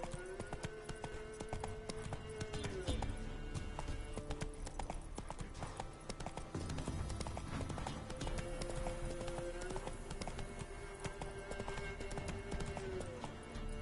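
Roach, the horse in The Witcher 3 on PS4, gallops with a fast, steady clip-clop of hooves that runs throughout, layered with game music and ambient sound.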